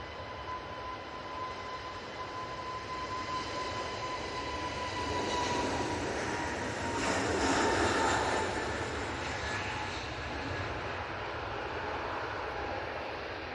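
An Airbus A320neo jet departs Manchester Airport, its engine roar swelling gradually from a distance to a broad peak and then easing, steady and without talk.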